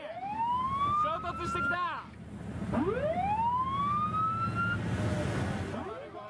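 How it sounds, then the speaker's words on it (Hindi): A loud wailing ship siren rises in repeated upward sweeps in the South China Sea, with a low engine rumble underneath. "सायरन बजाया जा रहा है"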